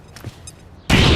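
A grenade blast in the video game XCOM 2 hits suddenly near the end, a loud, dense burst of explosive noise that fills everything after a quiet stretch with a few faint clicks and sounds.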